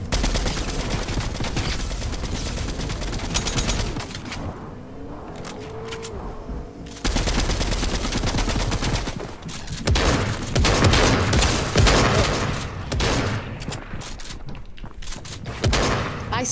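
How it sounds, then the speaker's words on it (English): Rapid bursts of loud video game gunfire, with machine-gun rattles and volleys dominating most of the stretch, broken by a brief quieter lull before heavy shooting resumes. "I slid in and then shot that guy in the face. It was awesome. I was getting shot at."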